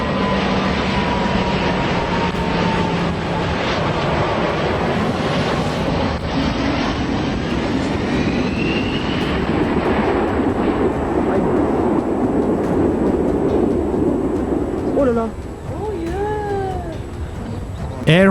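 An Air France Airbus A320-111 on charter Flight 296 roars past with a loud, sustained jet engine drone and wind rush, shifting in tone as it passes, then dipping and changing abruptly near the end.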